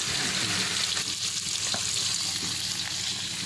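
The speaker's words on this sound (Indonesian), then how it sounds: "Belutnya juga digoreng ya." Giant eel pieces fry in hot oil, a loud, steady crackling sizzle close by, with faint stirring and no talk.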